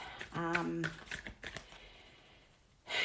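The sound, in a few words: tarot cards being shuffled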